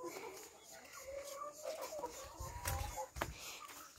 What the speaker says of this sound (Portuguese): São os franguinhos.